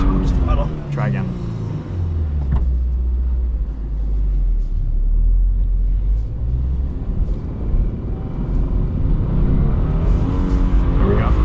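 2022 Subaru BRZ drifting, its engine revving and rumbling loudly with a rising then sustained tone, close by, with people talking over it.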